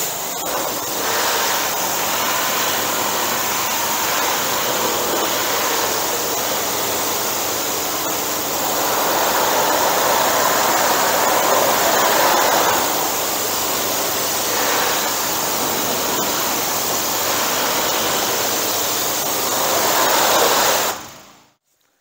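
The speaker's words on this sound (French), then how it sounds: "on va préparer la machine à pression, puis on va vous rincer ça dans quelques minutes" Pressure washer rinsing aluminium: a steady, loud, close rush of high-pressure water spray that holds for about twenty seconds with slight swells, then cuts off abruptly at the end.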